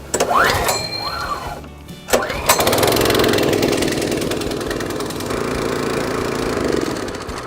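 A Cobra S40C petrol scarifier aerator is started with recoil pulls, two quick rasping cord pulls before the engine catches and settles into a loud, steady, close-up idle.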